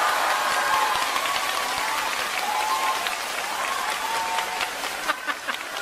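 A theatre audience at a crosstalk comedy show claps steadily for several seconds, dense sustained applause filling the room, with a few louder individual claps near the end.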